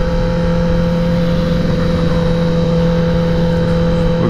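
Dirt bikes riding out of a park, a constant loud engine drone with a steady buzzing tone and no clear passes or pauses. No one speaks.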